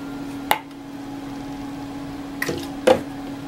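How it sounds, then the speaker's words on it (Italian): Bioderma micellar water squeezed from its bottle onto a cotton pad gives a few short, close squishing and dripping sounds over a steady indoor hum. "E metto un pochino di acqua bioderma qui sopra"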